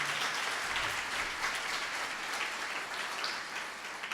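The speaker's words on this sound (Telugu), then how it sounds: "చప్పట్లు కొడదాం గట్టిగా." A church congregation at a communion service claps together, a sustained round of applause heard from some distance at moderate volume.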